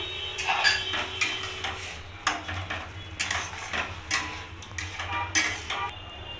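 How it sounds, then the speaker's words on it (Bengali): Milk is being stirred into carrot halwa in a pot over a low gas flame, giving repeated clinks and scrapes of a utensil against the metal in an irregular rhythm, close up with no talking. "এবার দুধটা দিয়ে ভালো করে নাড়াবো নাহলে নিচে লেগে যাবে"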